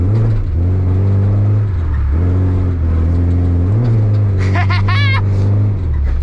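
Nissan 240SX engine revving loudly on wet ground, the clutch dumped in second gear, with steady rising and falling engine drone and a brief high squeal near the end.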